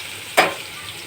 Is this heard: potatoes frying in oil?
yes